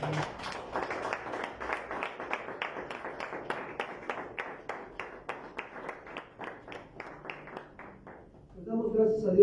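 A church congregation claps together during a worship service, a steady run of rhythmic, even claps held for several seconds before a louder burst of sound at the very end.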